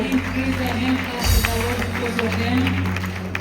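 Applause from an audience at an airport welcome gathering, clapping continuously beneath a loud voice on a public address, with a brief louder burst midway.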